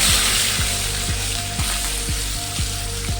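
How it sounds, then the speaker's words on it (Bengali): Katla fish fries in hot oil in a wok, a loud continuous sizzle and crackle with a regular repeating pulse underneath, close up and with no talking. "তেল গরম হয়ে গেছে, এবার মাছটা দিয়ে দেব।"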